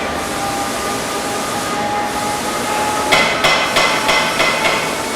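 A Mollart four-spindle pellet die drilling machine hums steadily, then a run of sharp, rhythmic metallic knocks sounds close by over the drone.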